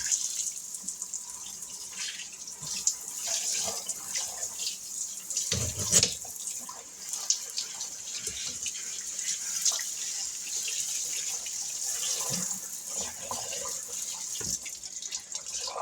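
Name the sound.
rinsing a farmhouse stone sink with tap water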